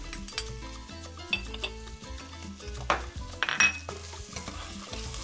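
Onions and garlic sautéing in a pan, a light sizzle under repeated clinks and scrapes of a utensil against the pan, close by with no voices.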